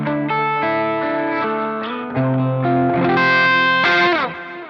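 Electric guitar played on the bridge humbucker through a Marshall Super Lead capture on a Quad Cortex, with sustained, driven chords and notes changing every half second or so, saturated with mild distortion and chorus-like shimmer, loud and alone.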